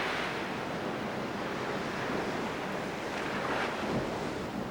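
Ocean waves and wind blend into a steady, loud roar of surf that rushes continuously, with wind buffeting the microphone. No voices are heard.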